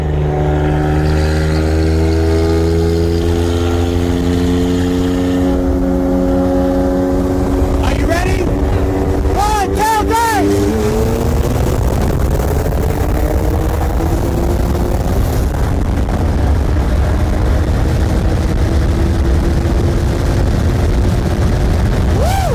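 A BMW M2 Competition with bolt-on upgrades races a BMW 335i N54 with Pure 600 turbos from 60 mph, heard as loud engines under heavy wind rush with rising revs and shifts while people talk intermittently.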